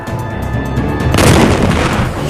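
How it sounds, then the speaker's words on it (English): North Vietnamese artillery fires from the mountains onto the Lang Vei Special Forces base, a loud, close, rumbling burst that swells into a dense roar and sustains for over a second without any voices. "The North Vietnamese artillery in the mountains begins firing on Lang Vây Special Forces base."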